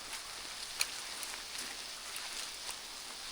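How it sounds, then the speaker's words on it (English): Rain falls steadily outdoors during a thunderstorm, a faint, even wash of hiss with scattered drips and taps on nearby surfaces, with no voices. "All that rain. Yeah, it's starting to come down a lot harder."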